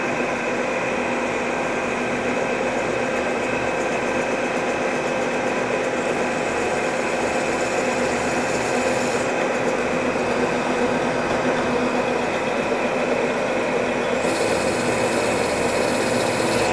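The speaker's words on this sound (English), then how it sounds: "So let's drill." Drilling metal on a workshop machine while making a backing plate: a steady, loud mechanical hum and whir runs throughout, with a brighter high whine shifting partway through and no talking.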